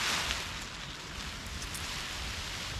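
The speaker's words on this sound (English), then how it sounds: "Forecast some rain for tonight and I can just hear it starting to spot now" Rain beginning to fall on a Lanshan 2 tent at a campsite, a soft steady patter of scattered drops under a low constant hiss.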